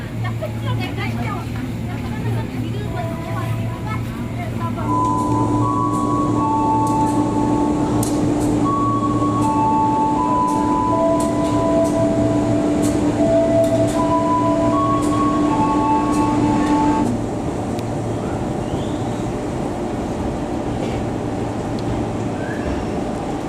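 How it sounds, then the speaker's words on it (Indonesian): The Walahar locomotive shunts on the railway, its loud, steady engine drone carrying sustained tonal whines and a rumbling rail bed, while people talk nearby. "Lokomotif Walahar masih langsir."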